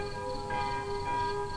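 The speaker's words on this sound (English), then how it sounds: "As night fell suddenly over the hills, the curfew bell tolled its warning." A curfew bell tolls at nightfall over hills in Burma, two resonant strikes with long humming overtones ringing on at moderate distance.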